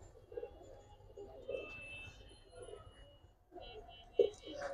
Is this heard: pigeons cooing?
yes